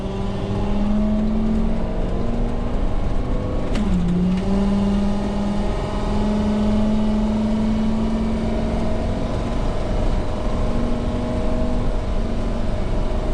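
A 2000 Thor Four Winds Hurricane 30Q Class A gas motorhome with a V10 engine drives up a road, its steady engine drone and road roar continuous and loud from inside the cab, with one brief clunk partway through.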